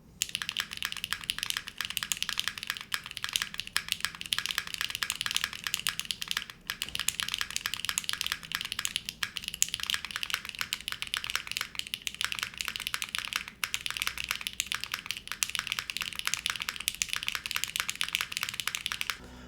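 Steady, rapid typing on a 60% mechanical keyboard with Purple Dawn switches, GMK Cloudnine keycaps and a stainless steel bottom, close and crisp, with a continuous clatter of key presses and occasional brief pauses.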